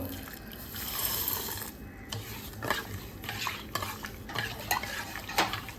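Sugar being stirred into hot milk in a pot off the heat, a spoon scraping and clinking steadily against the metal in close, continuous strokes with no talking.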